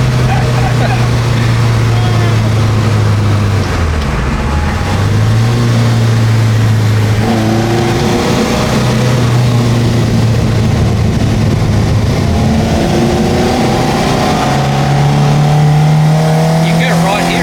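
Ford Escort MK1 RS2000 street car engine accelerating hard from inside the cabin, a loud, steady low drone climbing in pitch through several gear changes, with occupants talking over it.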